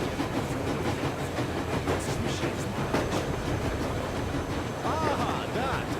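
Coal-burning steam train from Metro Exodus rolling on rails, a steady loud rumble with rhythmic clatter throughout, voices talking faintly over it near the end.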